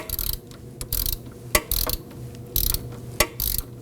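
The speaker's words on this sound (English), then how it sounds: "Let's go ahead and snug down the bottom one here, then we'll come back and we'll torque them down." Hand ratchet snugging down a camber adjustment bolt on the front suspension of a 2005-2009 Subaru Legacy, close bursts of quick clicking in short strokes with a few sharp metallic knocks between them, no talking.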